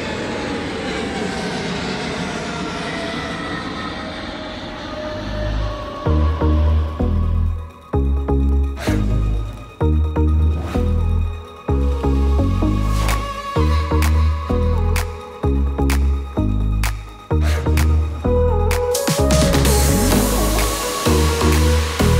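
An aircraft passes near an airport hotel in Beirut, a loud, sweeping jet roar that rises and fades at close range, followed by rhythmic heavy thumping and clatter.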